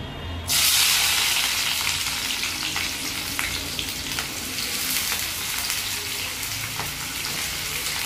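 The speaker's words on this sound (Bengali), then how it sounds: "প্রথমেই মা পেঁয়াজটা দিয়ে দিল তেলে। এবার এটাকে ভেজে নেবে।" Chopped onions drop into hot mustard oil and start frying for a lote fish curry, setting off a sudden loud, close sizzle that settles into a steady hiss with faint crackles.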